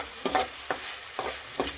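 Onion, tomato and chilli frying over high heat in a pan for macaroni pasta masala, with four quick stirring scrapes spaced evenly over a constant close sizzle.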